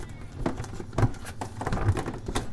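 Rain patters down on a hot day, a faint, uneven spatter of soft drops with no voices.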